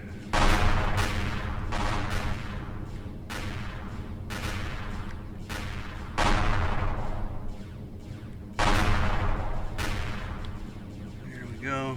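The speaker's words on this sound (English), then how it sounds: "Those plasma cannons ought to do it on their own" Plasma cannons blast away at turrets in the space game Empyrion Galactic Survival, sounding as loud, heavy bursts of repeated fire that come in several long sustained volleys, with a voice talking over parts of it.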